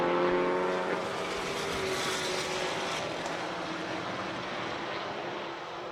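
Race cars battling on track at Circuit of the Americas during a Super Lap Battle time attack event, with a Subaru among them; a sustained engine roar, loud at first with a high revving tone, easing slightly as the cars pull away.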